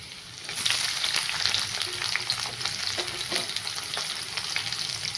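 Chopped carrots and capsicum frying in hot oil give a dense, continuous sizzle, with occasional light stirring knocks, close and steady throughout.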